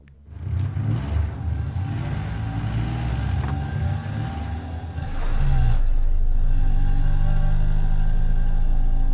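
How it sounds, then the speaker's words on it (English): A truck engine in the video game Encased rumbles at idle, then roars up loudly as the vehicle lurches off, settling into a steady, heavy drone. "the roar of the engine smothers the rest of her sentence, and the truck lurches into motion"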